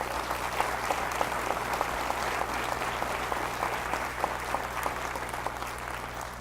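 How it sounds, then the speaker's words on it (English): Sustained applause from a seated convocation audience at College of the Sequoias, honoring the board members; dense, even clapping fills the room for the whole stretch without letting up. "let's thank our board members with a round of applause."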